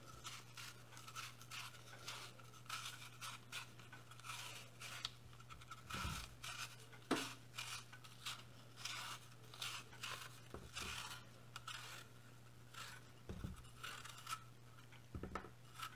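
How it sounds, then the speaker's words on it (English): A knife peels an apple by hand for an apple cake, with quiet, intermittent scraping and soft cutting strokes close up, broken by a few faint clicks and taps of handling. "the first part I'm just peeling the apple"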